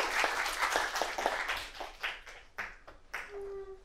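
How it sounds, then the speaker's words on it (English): A small audience gives brief, quiet applause after a speaker's introduction at a talk, scattered claps thinning out within a few seconds, with a short tone at the end. "please, a nice warm round of applause for them"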